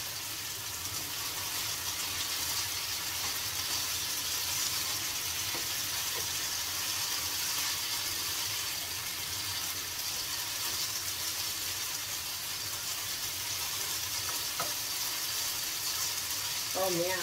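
Eggs frying in a pan for a New Mexico green chile breakfast, the same pan used for the fried potatoes: a constant broad hiss and crackle, steady and moderately loud throughout, with a voice speaking briefly over it.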